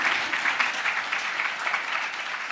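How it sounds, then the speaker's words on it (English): Steady audience applause from a crowd at a live interview event, dense continuous clapping holding at an even level throughout with no speech over it. "Well, yeah, you can clap for that."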